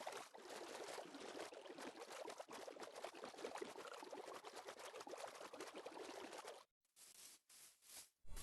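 Sea water rushes steadily while a boat moves across a vast ocean in Minecraft Pocket Edition. The hiss is dense and continuous, then cuts off abruptly into brief silences broken by short splashy bursts.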